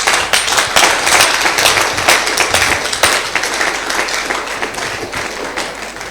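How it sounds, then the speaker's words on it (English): Audience at a congress breaks into brisk applause, crisp clapping that swells early then gradually thins and fades over several seconds. "just give him a round of applause"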